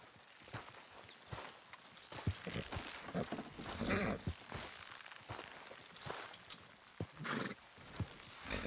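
Horses neigh and whinny in the video game Red Dead Redemption 2 while hooves clop and thud irregularly, with shuffling movement and a busy, noisy background throughout.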